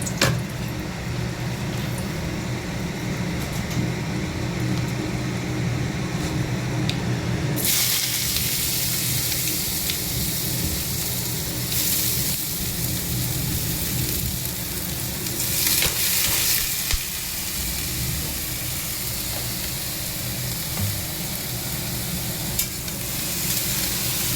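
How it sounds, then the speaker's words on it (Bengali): Bitter gourd and potato pieces fry in a pan with a continuous close sizzle and stirring scrapes. The hiss grows brighter and louder partway through and keeps going with no talk. "একটা এখন এই যে উচ্ছে আলু ভাজা হবে।"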